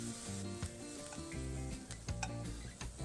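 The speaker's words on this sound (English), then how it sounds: "Now add the chopped onion and saute until they are translucent." Chopped onion sauteing in a pan until translucent, a gentle steady sizzle close by with a few soft stirring scrapes and taps.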